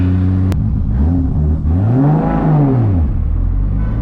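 A 1000-plus horsepower Toyota Supra MK4 engine revs up and drops back, a loud, close rising-and-falling growl with a steady idle rumble underneath.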